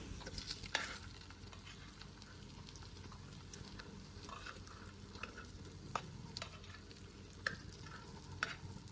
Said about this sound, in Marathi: तर आपल्याला गॅसची फ्लेम स्लो ठेवून हे आपल्याला फ्राय करून घ्यायचं आहे.